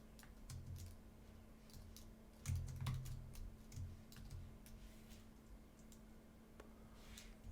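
A computer keyboard clatters softly as code is typed, with quick irregular bursts of key taps over a low steady hum, nearby and quiet, no talk.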